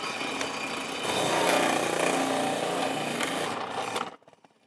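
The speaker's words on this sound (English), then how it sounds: "grab another carrot, and just try the fine side of the shredding blade" A food processor's fine shredding blade grinds through a carrot, a loud, dense whirring buzz that holds for about four seconds before the motor cuts off and spins down.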